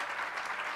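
Soft, steady applause from a lecture audience, a continuous wash of clapping at a low level with no voices over it.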